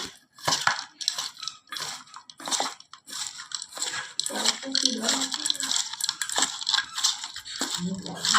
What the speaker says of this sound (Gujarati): આ રીતે મીઠું અંદર નાખીને તેને બરાબર દબાવીશું